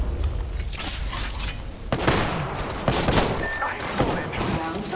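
Rapid bursts of gunfire and impacts from an Apex Legends firefight crackle continuously and densely, with voices chattering faintly beneath the shooting.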